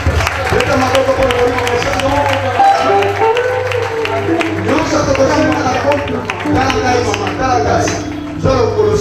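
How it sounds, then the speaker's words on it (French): Church congregation clapping during a lively French-language healing and prayer service, dense and loud throughout, mixed with singing voices and crowd noise. "Est-ce qu'on peut applaudir le Saint-Esprit?"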